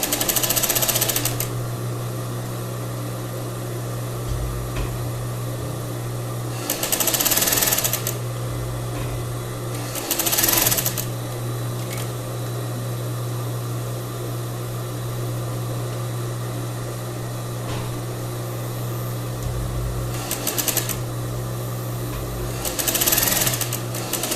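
A sewing machine runs along a crepe bubble blouse sleeve, its loud, steady motor drone close by, broken by several short surges of faster, harsher stitching.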